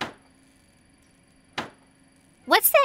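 Cartoon knocks from something flapping in the wind, two sharp isolated thuds spaced about one and a half seconds apart, followed by a voice speaking.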